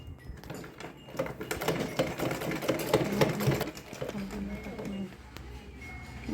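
A sewing machine stitches an invisible zipper onto a ready-made skirt with a rapid, steady mechanical chatter close by, while someone talks over it throughout.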